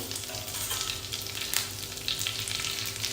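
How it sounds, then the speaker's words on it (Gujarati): Green chillies and curry leaves hitting hot oil with mustard and sesame seeds for Gujarati patra, a steady close sizzle and spatter with occasional stirring scrapes, no voice present. "હવે એની અંદર લીલો મરચો અને લીમડો એડ કરી લઈશું."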